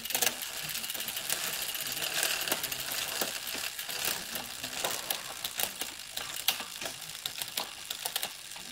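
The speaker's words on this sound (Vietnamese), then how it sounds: "test chi tiết cái phần chuyển số, chuyển mã của con xe này cho các bác xem nhá." Shifting on a Swift Attack G2 road bike with a Shimano 105 11-speed groupset, a busy run of close, crisp mechanical clicks and ratcheting freewheel ticks over steady whirring drivetrain noise, with no voices.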